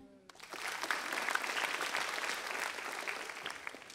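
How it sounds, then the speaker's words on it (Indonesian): A burst of applause from a stand-up comedy audience starts abruptly and continues steadily, dense clapping filling the whole stretch. "Tepuk tangan."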